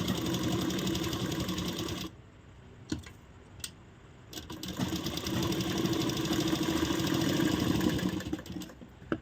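A sewing machine stitches a blouse with a steady whirring run that stops briefly for a few seconds, with a couple of clicks, then starts again and runs on continuously. It is close and loud.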